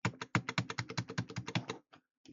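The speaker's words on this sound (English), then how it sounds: "I'm going to use the arrow keys to push it into the pumpkin." Rapid, steady tapping on computer keyboard arrow keys, about fifteen close, evenly spaced clicks, then a few sparser presses, with no talking.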